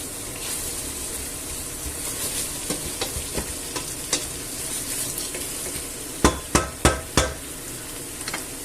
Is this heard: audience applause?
no